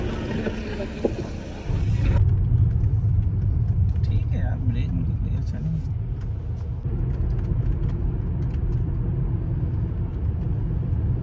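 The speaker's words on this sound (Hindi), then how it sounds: "गाड़ी ड्राइव करके एक बार चेक कर लें क्या सस्पेंशन का कोई काम तो नहीं है।" A Mercedes-Benz car is driven on the road to check its suspension; a steady, close low engine and road rumble builds after a couple of seconds and continues, with people talking over it.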